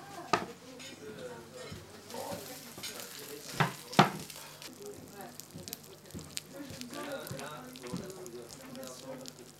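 Berry Easter pâté sizzling in a hot oven dish, a soft continuous crackle and hiss with occasional sharper pops and clinks, close and fairly quiet.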